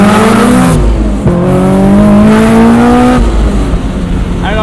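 A supercharged 2003 Honda S2000 pulls hard in fourth gear, its engine note climbing steadily in pitch with a loud, continuous whine heard from inside the cabin, a short dip partway through before the rise resumes.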